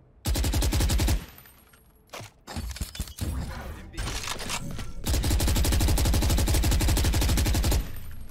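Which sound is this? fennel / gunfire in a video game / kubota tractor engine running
gunfire in a video game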